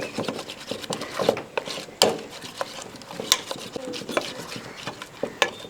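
A spoon stirs cauliflower gravy in a cooking pan, giving close, irregular scrapes, clinks and knocks against the metal with short pauses between strokes and no voices.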